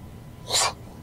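A single short sneeze, a quick breathy burst, close by against a quiet background hum.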